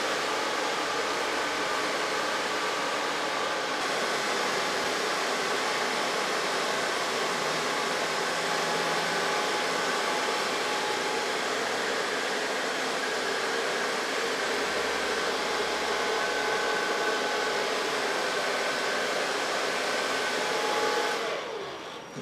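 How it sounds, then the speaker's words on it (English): A hair dryer blows steadily and loudly through a salon hair make-over, a constant broadband airflow roar lasting the whole time and switching off at the very end. "So far blow drying."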